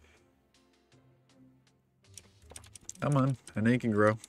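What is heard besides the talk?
loud computer keyboard typing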